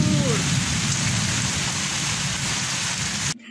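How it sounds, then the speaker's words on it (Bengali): Heavy rain pouring down outside during an evening storm, a dense steady hiss of rainfall on surfaces that runs continuously and cuts off abruptly near the end. "দেখো বাইরে মুষলধারে বৃষ্টি হচ্ছে।"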